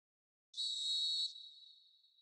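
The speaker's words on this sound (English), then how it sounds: "Whistle's gone, that's a foul." A referee's whistle in a PS4 football video game blows one clear, shrill blast lasting under a second, then trails off in a fading ring against silence.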